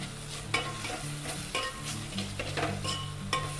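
Chopped onions with ginger garlic paste frying in a pan, a steady close sizzle broken by the scrape and clink of a spoon stirring every second or so, with no talking.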